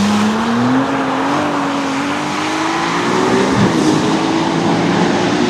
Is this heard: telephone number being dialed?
no